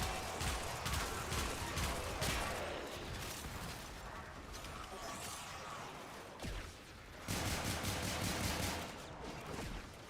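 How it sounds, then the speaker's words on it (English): Hand cannon gunfire in a shooter video game: repeated sharp shots in bursts, rapid cracks with mechanical clicks, fairly quiet overall with a brief lull midway before another volley. "Oh, this thing's just a hand cannon."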